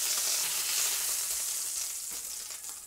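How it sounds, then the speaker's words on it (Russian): A chicken breast sears in a frying pan with a bright, continuous hiss of sizzling that holds steady and fades slightly toward the end. "Грудку переворачиваю и с обратной стороны припускаю буквально чуть-чуть, чтобы закрылись клеточки мяса."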